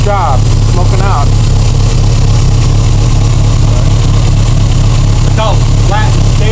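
A Triumph TR4's engine idles smoothly and steadily close by, a flat low rumble holding constant throughout, with brief chirpy squeaks now and then and no speech.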